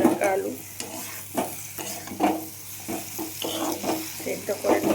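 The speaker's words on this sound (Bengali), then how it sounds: "ভেজে রাখা আলুটাকে তুলে নিচ্ছি, মশলাটার সঙ্গে ভালোভাবে কষিয়ে নেব।" Boiled-then-fried potatoes are stirred into masala in a pan, with repeated scraping spatula strokes over a steady close sizzle.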